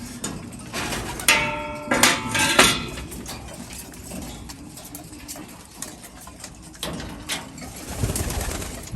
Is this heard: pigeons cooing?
yes